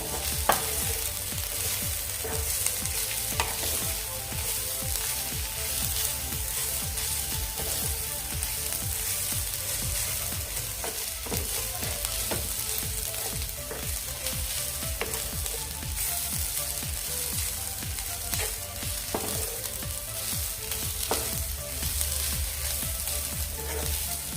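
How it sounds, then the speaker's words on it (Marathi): Spicy bombil (Bombay duck) chutney fries in a pan with a dense, constant sizzle. Occasional scrapes and knocks of a stirring spoon sound close by, no voices, for a long steady stretch. "व्यवस्थित आपण ही चटणी फ्राय करून घेऊया"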